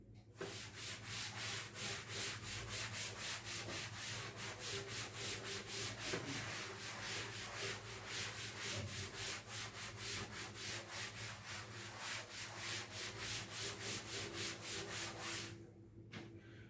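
An eraser rubs writing off a classroom board in steady back-and-forth strokes, a close, even scrubbing rhythm lasting about fifteen seconds before stopping, with no talking.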